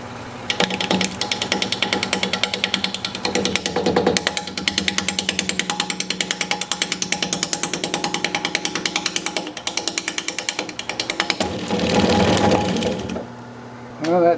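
Wood lathe spinning a blank for a candle holder at about 580 RPM while a 5/8-inch bowl gouge cuts, giving a steady, loud, rhythmic chattering hum throughout, with a brief louder burst near the end before it drops off.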